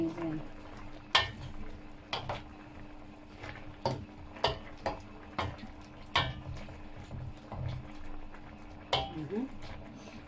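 A spoon scrapes and clinks in a pot of butternut squash and French beans cooking in coconut milk, producing a series of sharp metallic taps at an irregular rhythm over a low simmer, with a voice talking.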